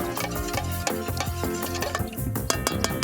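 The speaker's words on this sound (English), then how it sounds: "take your spoon, mix everything up together, break those eggs down a bit" A spoon stirs eggs and yeast together in a bowl outdoors, giving quick repeated clinks and scraping taps in an uneven rhythm, close and fairly loud, with no talking.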